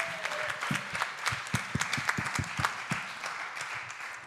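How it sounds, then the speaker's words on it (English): An audience at a forum event claps in sustained applause, a dense patter of many hands with a few louder individual claps standing out nearby. "Round of applause for the audience."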